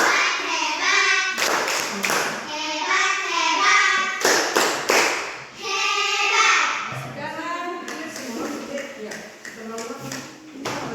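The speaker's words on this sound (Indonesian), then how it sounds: "Kelompok 1 kita tepuk hebat dulu untuk kelompok 1." A class of children performs the 'tepuk hebat' rhythmic clapping routine, sharp patterned claps in bursts alternating with children's voices chanting and talking throughout.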